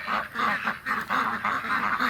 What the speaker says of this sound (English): These amazing ducks.